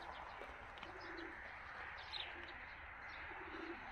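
Faint pigeon coos come and go in low bursts over a hissy outdoor background, with occasional light chirps.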